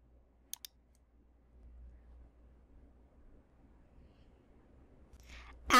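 A pair of quick, sharp mouse clicks near the start of an otherwise near-silent stretch, followed by a faint low hum and a brief louder rustle at the end.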